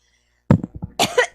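A cough sounds up close, a few rough bursts following a brief silence, then a second harsher cluster.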